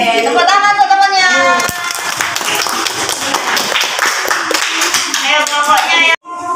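Classroom children clap for a classmate at an elementary school, a dense, lively patter filling the room with children's voices and chatter mixed through it, then cutting off abruptly near the end.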